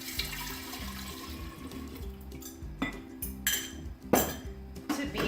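Water pours and sloshes into a kombucha brewing container to rinse leftover sugar from the bottom, with a running water sound followed by a few clinks and knocks of the vessel close by.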